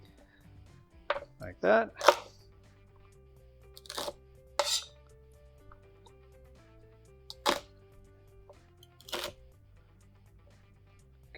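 A knife trims the dry ends off a vegetable for Italian wedding soup, a few sharp chopping taps on a board spaced apart, with brief speech between them.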